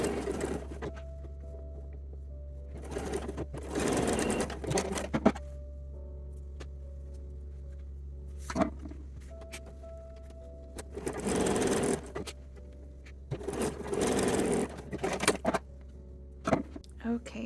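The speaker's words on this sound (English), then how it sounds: "now we'll sew this together with a 3/8 inch seam allowance" A sewing machine stitches a 3/8 inch seam on lingerie fabric in several short bursts of rapid whirring, separated by pauses with a steady low hum, while a voice talks intermittently.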